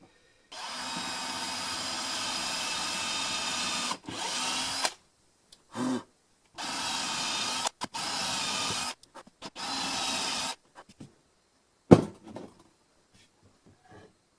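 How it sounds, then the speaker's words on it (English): A power drill bores four holes in a wooden guitar body, giving several loud sustained whirring bursts separated by brief silences, with a sharp knock near the end. "Four holes drilled."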